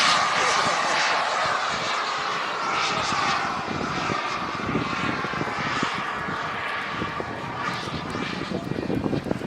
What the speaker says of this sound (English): Nice, slow flyby. A little bit of flaps.